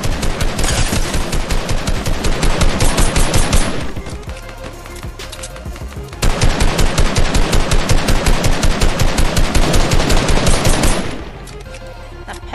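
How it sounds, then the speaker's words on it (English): Rapid automatic gunfire in Fortnite Battle Royale rattles in two long, loud bursts separated by a short lull, each a dense stream of close shots. "There's people pushing and they're getting shot at."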